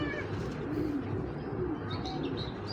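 Young foreign-breed pigeons cooing softly in short, low, throaty phrases, with faint chirps above a steady background hum and no voices.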